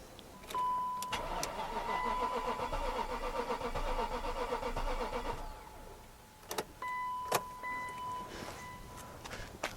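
A BMW E38 740i V8 cranks and catches on jump-starter boost after sitting for years, a steady engine roar for about five seconds that cuts out, followed by clicks, a beep and a shorter second cranking attempt.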